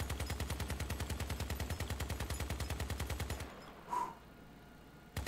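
A battle mech in the video game Crossout fires its weapons non-stop, a rapid machine-gun-like stream of evenly spaced loud shots for about three and a half seconds, followed by a pause with a brief whoosh and a final shot.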